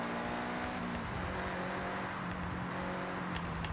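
Racing cars in Forza Horizon 6 roar continuously, a dense engine drone with shifting pitch and brief accelerations, loud and steady throughout.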